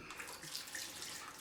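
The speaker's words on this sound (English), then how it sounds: "Sorry about the sound of the water." Tap water runs steadily from a faucet in a bathroom during a head shave, a continuous broadband hiss and splash with no talking.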